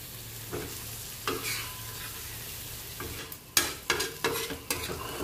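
A spatula scrapes and stirs egg and paneer tawa fry with coriander in a hot pan, soft sizzling underneath and several distinct scraping strokes growing busier toward the end, heard up close with no talking.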